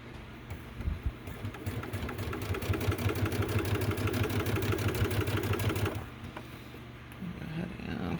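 Sewing machine stitching the fabric of a Thor-inspired clutch bag, a steady rapid mechanical whirr and needle rhythm running continuously for about six seconds before stopping, then a quieter pause with faint handling.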